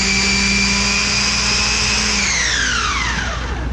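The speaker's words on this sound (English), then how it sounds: "But we have a food processor here, all right? So I'm gonna put in, what do we got? Maybe 6 cloves of garlic, all right?" A food processor chops about six garlic cloves in one loud, steady whirring burst whose pitch drops as the motor winds down near the end.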